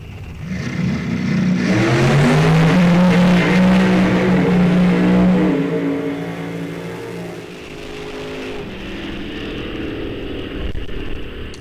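Nitrous-assisted drag race cars tear down an eighth-mile strip at a heads-up drag event, a loud rising engine roar that swells to a peak and then fades as the cars pull away, with no talk.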